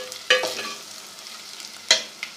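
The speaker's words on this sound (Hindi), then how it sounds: "लहसुन अदरक का पेस्ट डालने के बाद हम इसको तकरीबन 1 मिनट चम्मच चलाएंगे" A spoon scrapes through onions and garlic ginger paste in a hot pan for aloo gobhi, making two sharp metallic strokes over a soft, steady sizzle, close up with no voices.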